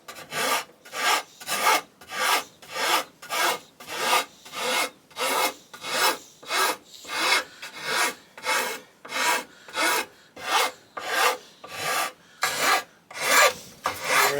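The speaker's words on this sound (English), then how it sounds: "Alright, done with the rasping." Hand rasp filing the shaped wooden edge of a homemade live edge table, in a steady run of about twenty close, rhythmic scraping strokes with no other sound.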